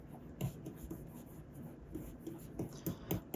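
A stylus taps and scratches softly across a tablet screen while coloring dark areas of a digital drawing in Photoshop, faint and irregular with small clicks.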